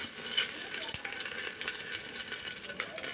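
Bay leaves and whole cumin frying in hot oil for an egg biryani cooked in a pressure cooker, a steady close sizzle with a metal spoon scraping and clinking as the spices are stirred.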